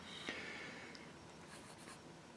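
A Rotring Core fountain pen laying Noodler's Bulletproof Black ink on paper gives a faint, steady, soft scratch with a few light strokes. It is close and quiet, and no voice can be heard.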